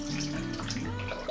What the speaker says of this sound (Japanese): こちらのむき牡蠣をこちらの冷たい真水、こちらですすぎまして